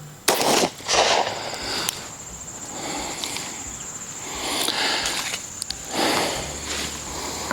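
Sharp pistol shots from .45 ACP rounds fired at a 25-yard range ring out as two loud, close cracks near the start, followed by fainter distant pops over a steady outdoor hiss and a faint high insect-like tone.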